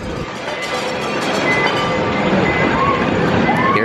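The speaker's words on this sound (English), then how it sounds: "Oh, the train's coming back." Small amusement park train at Belmont Park in San Diego rolling past on its rails, a steady rumbling clatter that grows slightly louder and closer, with people talking and park noise around.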